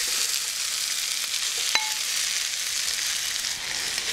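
Green chillies and diced potato fry in a hot pan for a samosa filling, giving a steady, dense sizzle throughout, with one brief metallic clink from a utensil near the middle.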